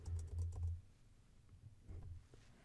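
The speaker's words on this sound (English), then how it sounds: "Okay, we type it out just like this." Quiet computer keyboard typing, a short burst of several rapid keystrokes followed by a pause and a few more scattered taps, close and alone, while code is entered.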